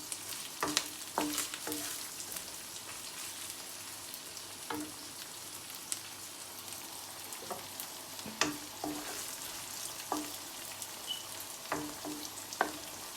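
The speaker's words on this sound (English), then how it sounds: "Now I'm going to add the 2 cup of tomato and 6 to 7 green chilies. Mix together." Tomato and green chilies fry for a sardine curry, giving a soft, steady sizzle with scattered clinks and scrapes as the pan is stirred, close but quiet, with no speech.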